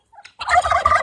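A turkey gobbles loudly at close range in a single rapid, warbling burst, preceded by a couple of faint short calls.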